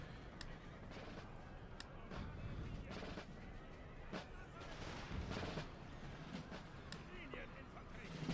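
Massed musket volleys from line infantry in Empire Total War, a steady rumble of distant crackling gunfire with occasional sharper cracks, under excited talking.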